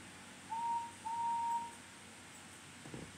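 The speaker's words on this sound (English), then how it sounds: "A whistle sounds like this." Two steady, fairly faint whistle tones sound for a toy train engine, a short blast followed by a longer one, each holding a single even pitch over quiet background hiss.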